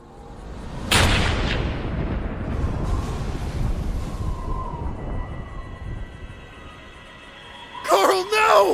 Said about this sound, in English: Who the fuck is shooting at us?